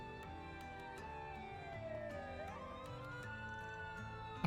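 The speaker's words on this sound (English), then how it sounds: "A police siren?" A police siren in a video game, Trails through Daybreak II, wails faintly in the distance, its pitch sliding down and back up, over a low background hum.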